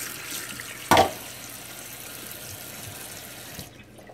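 Tap water runs steadily into a sink as coconuts are washed, a continuous hiss with one brief louder splash near the start, ending abruptly when the flow stops.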